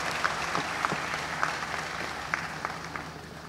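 Steady applause from an audience at a 2019 back-to-school education meeting, a dense patter of many hands clapping continuously at moderate distance, with no talking.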